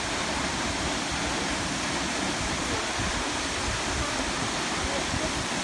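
A waterfall roars in a dense, steady broadband rush that fills the whole clip at constant loudness, close by, with no other sounds standing out.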